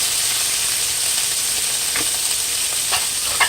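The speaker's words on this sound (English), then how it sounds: "So now I'm just gonna saute my saltfish right quick." Saltfish sautéing in a hot pan, a steady hiss of frying oil with a few soft spatula scrapes and pops near the end.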